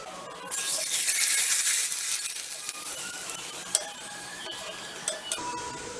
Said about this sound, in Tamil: இப்போ உங்களுக்கு பொரித்து காமிச்சிடுறேன்.